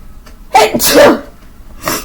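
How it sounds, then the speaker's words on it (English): One loud close sneeze, a sharp breathy burst, followed shortly by a softer exhale. "I have to sneeze."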